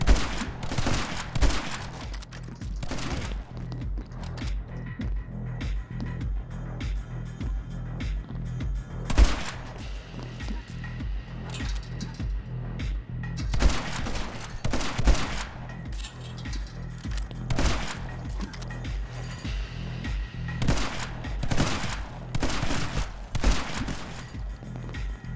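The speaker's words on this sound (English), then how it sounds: "Shotgun." Shotgun blasts ring out in an outdoor setting with skateboarders, several sharp loud reports spaced a few seconds apart over a steady rumbling background.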